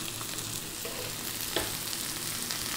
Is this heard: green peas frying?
yes